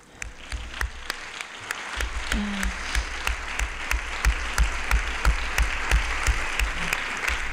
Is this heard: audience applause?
yes